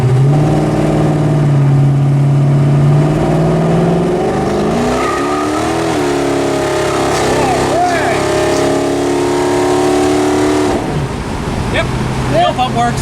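A Pontiac 455 V8 running with a newly installed mechanical fuel pump, loud and close, revving up and settling in long sweeping pitch changes, with people talking faintly under the engine noise.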